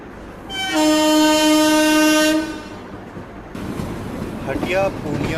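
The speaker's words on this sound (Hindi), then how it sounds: "और फाइनली पहुँच रहे हैं मुरी जंक्शन रेलवे स्टेशन।" A train horn blares in one long sustained blast as a train arrives at Muri Junction railway station, followed by rumbling wheels and station noise with a voice or announcement mixed in.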